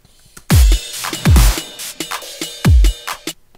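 Three loud swelling hits, each rising then cutting off sharply, reversed snare samples with reverb in a dubstep track, with softer percussive ticks scattered between them.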